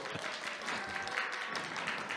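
Audience at a Korean lawyer's lecture on creators' rights, CC and NFT law clapping steadily for about two seconds, a dense even patter of many hands with no voices over it.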